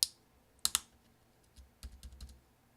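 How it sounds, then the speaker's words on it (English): Key clicks on a 13-inch MacBook Pro Unibody keyboard as a replacement 8 key is pressed down into place: a sharp double snap near the start, then a cluster of softer clicks, close and dry. "press down with your finger. You might have to move it around a little bit until you hear several clicks"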